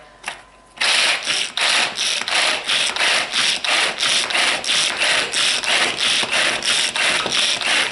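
A pull-cord food chopper works on jalapeños in a kitchen, its cord yanked again and again in a steady ratcheting, whirring rhythm, loud and close, about two pulls per second after a brief quiet start.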